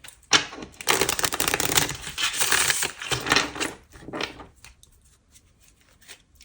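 A deck of tarot cards is shuffled in a rapid, dense flurry of riffling and slapping card noise that runs for about four seconds close to the mic, then thins into a few scattered taps and soft shuffles.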